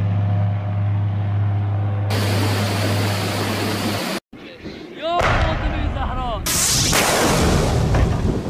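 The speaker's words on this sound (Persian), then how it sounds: "موشک‌های چشمدار هوشمند قائم و الماس هم از پهپادهای نوین مهاجر 6 و ابابیل 5 جنگ افزارهای جنگ الکترونیکی شلیک شدند" Smart Qaem and Almas guided missiles launch from new Mohajer-6 and Ababil-5 drones during an Iranian military drill, heard as loud sudden blasts and whooshing bursts after a humming stretch, with abrupt cuts between shots.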